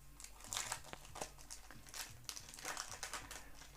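Yu-Gi-Oh booster pack wrappers being opened: quiet, close foil crinkling and tearing in uneven bursts for a few seconds.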